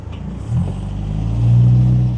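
A classic MGB fitted with a 123 distributor revs hard and spins its wheels, giving a loud, close engine rumble that swells and peaks toward the end of the short burst.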